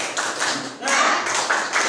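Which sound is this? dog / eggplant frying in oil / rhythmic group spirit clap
rhythmic group spirit clap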